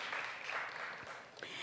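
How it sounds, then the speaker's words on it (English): Audience applause welcoming a speaker to a panel discussion, a steady wash of clapping from a room full of people, fairly soft and continuous throughout. "please give her a warm round of applause"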